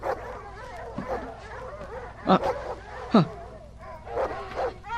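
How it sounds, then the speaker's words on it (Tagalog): Dogs barking in the dark outside a house, several sharp yips and barks with whimpers breaking through at irregular intervals, while a person talks quietly in between. "Bakit kaya hindi matahimik ang mga aso?"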